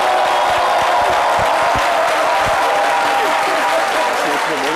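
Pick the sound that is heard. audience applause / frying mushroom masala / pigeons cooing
audience applause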